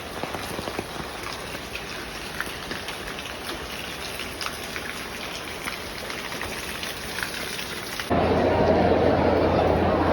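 Steady rain heard from inside a moving bus, a dense even hiss throughout with faint background chatter, growing louder and broader in the final two seconds.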